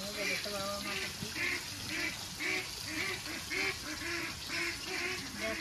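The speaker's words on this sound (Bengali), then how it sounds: "দেখো হাঁসগুলো কি ডাকছে আজকে" Ducks quack repeatedly in a steady rhythm of short honking calls near a pond on a rainy day, with a voice talking over them.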